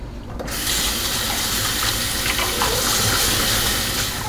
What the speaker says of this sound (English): I will rinse it with some fresh water a little bit, and then let it drain